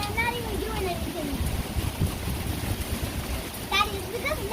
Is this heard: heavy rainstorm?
yes